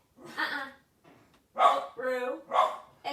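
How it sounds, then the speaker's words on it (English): An indoor dog barks several times in quick succession nearby, loud sharp woofs with short gaps between them, alongside a brief hushed voice. "She's barking at one of the other dogs."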